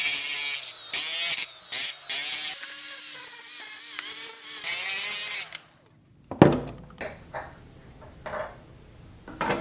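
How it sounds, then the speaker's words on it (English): A power wire wheel grinds against metal in loud, bright, harsh bursts of a few seconds each, then spins down into quieter clunks and handling noises. "Need a little more wire wheel cleanup on there"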